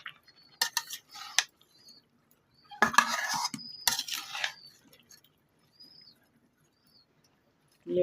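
Ridge gourd curry being stirred in a pan: scattered metallic scrapes and clinks of a spoon against the pan come in short bursts separated by quiet gaps.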